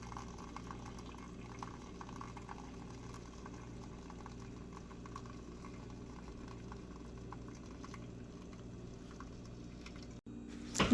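Steady bubbling, gurgling liquid sound continues evenly for several seconds as boiling water is poured into a dish for a flan water bath, ending with a brief clunk.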